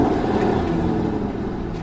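A second-hand car engine runs at night in a horror story effect, a loud, steady low rumble close by with no voices.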